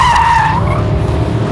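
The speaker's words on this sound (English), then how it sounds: "And it's so controlled when drifting." Mercedes-AMG GT 63 in drift mode, its tires squealing loudly in a sustained skid over a strong engine roar, close and continuous for the whole short stretch.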